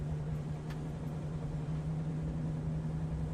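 A low, steady race car engine idle in the iRacing sim, GT3 car, hums evenly throughout, a constant droning rumble with a faint tonal whine, no voices present.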